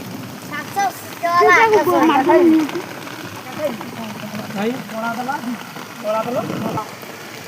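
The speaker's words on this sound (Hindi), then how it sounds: "वर्षा होजी" Heavy rain pours down outdoors in a steady, dense hiss, while loud voices talk over it throughout.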